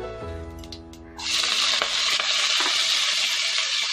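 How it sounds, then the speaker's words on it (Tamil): Onions, curry leaves and crushed garlic hit hot oil in a pressure cooker and burst into a loud, steady sizzle that continues without letup after a brief quieter moment. "இதையெல்லாம் நம்ம குக்கரில் ஆட் பண்ணி நல்லா கோல்டன் ப்ரௌனாக வதக்கி எடுத்துக்கலாம்"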